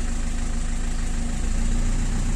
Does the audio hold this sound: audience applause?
no